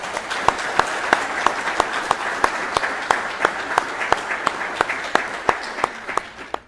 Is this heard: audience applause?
yes